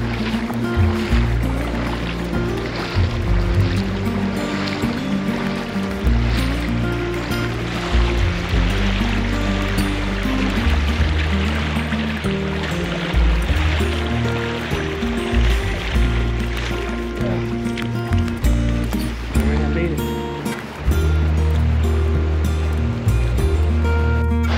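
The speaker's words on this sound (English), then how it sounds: "Made it across the river." A river in a remote hiking area of Cleveland National Forest rushes loudly and continuously close by, a dense watery roar with low rumbling surges throughout.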